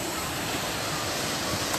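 A waterfall in Borjomi National Park roars as a dense, steady wash of rushing water, close and full, unchanging from start to end with no clear talk over it.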